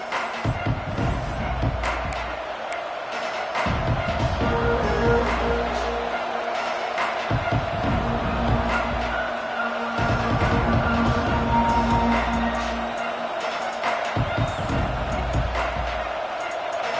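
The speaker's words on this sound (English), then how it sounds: "This crowd ready to make its presence known." Stadium crowd noise from a Madden football video game: a broad, steady roar of cheering fans that swells and dips, with commentary voices talking over it throughout.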